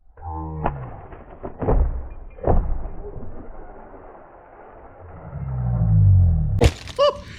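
An RC crawler strains and breaks, flinging off a part with sharp cracks and heavy thuds over a rising motor rumble, ending in a loud snapping impact, close and forceful.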